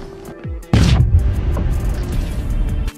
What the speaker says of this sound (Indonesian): dan melemparkan pin granat kepada Donnie.